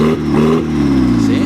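A Honda Civic with a 2.0 engine revs hard as it pulls away, its loud, close tone rising and stepping through pitch changes, with a voice talking over part of it.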